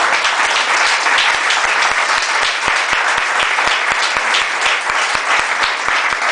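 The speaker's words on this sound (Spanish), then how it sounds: "Denle un aplauso al Señor" Church congregation giving applause, loud and dense clapping from a crowd mixed with a steady rhythmic beat, continuous throughout.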